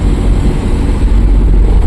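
Small four-wheeler cars driving along a road on the Mumbai to Goa route near Belapur, a loud, close, continuous low road and engine rumble with no other sounds.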